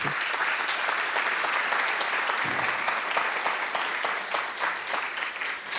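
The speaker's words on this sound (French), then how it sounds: "n'applaudissez pas trop" A large audience applauds continuously, a thick, even roar of many hands clapping up close that holds steady throughout without any talk over it.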